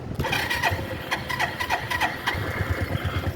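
A small cruiser motorcycle cranks over close by, its engine sputtering in rough, uneven bursts and clicks as it struggles to catch.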